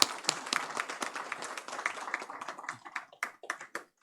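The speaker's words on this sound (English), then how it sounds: "Special round of applause for Dheeraj Gaur for putting all hard work." An audience at a natural gas conference applauds an organizer, with many hands clapping together that thin into scattered individual claps as the applause dies down.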